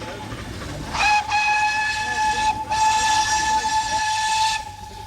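A Vale of Rheidol Railway steam train in Wales sounds two long, steady whistle blasts with only a brief break between them, over the low rumble of the running train.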